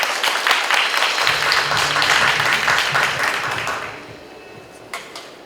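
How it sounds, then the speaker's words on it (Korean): Audience applause greets a speaker invited to give congratulatory remarks at a 60th-anniversary international population and health symposium, a dense crowd clapping steadily for about four seconds, then fading to scattered claps. "큰 박수로 맞아 주시기 바랍니다."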